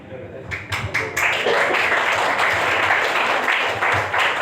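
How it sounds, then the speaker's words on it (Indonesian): A seated audience at a church-style family teaching session breaks into applause, a few loud claps at first and then a dense, sustained clapping that stays strong to the end, with faint voices mixed in. "boleh tepuk tangan yang lebih meriah lagi ya"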